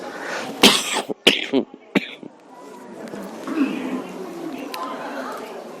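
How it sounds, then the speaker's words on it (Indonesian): Several harsh, close, phlegmy coughs come in quick succession, then give way to a low background murmur of voices. "saya batuk berdahak"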